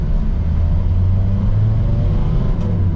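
Volkswagen T5 van driving on the road, heard from inside as a steady, loud low engine rumble with road noise and no talking.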